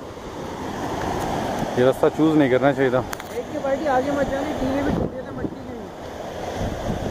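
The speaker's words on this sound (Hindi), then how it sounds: "बस समंदर की आवाज़ें आ रही हैं" Steady surf and wind roar throughout on the Balochistan coast, with someone speaking briefly over the ocean noise in the middle.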